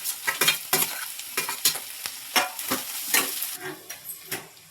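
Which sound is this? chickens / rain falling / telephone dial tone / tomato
tomato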